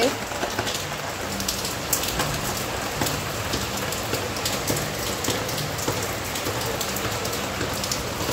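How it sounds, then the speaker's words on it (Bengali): Continuous rain pattering on a hard surface, a steady dense hiss with scattered louder drops, no break from start to end. "হ্যাঁ, বৃষ্টি পড়ছে।"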